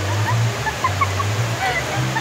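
Rushing floodwater surges and churns in a steady, loud roar, with splashing and gurgling close by throughout.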